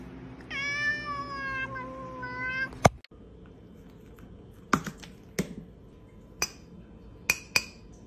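A cat lets out one long, drawn-out meow that rises into a scream, loud and close, followed by quiet sharp clicks and taps.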